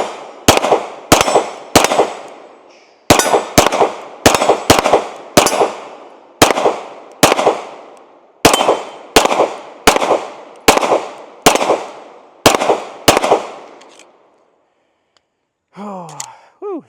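A Sig P320 SXG pistol fires its last magazine, loaded partly with 147-grain rounds: about sixteen loud, sharp, close shots in uneven clusters with short gaps, then silence and a breathy exhale from the shooter.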